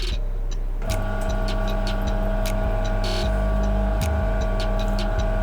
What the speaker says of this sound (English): Now, I'm going to turn on the grinder.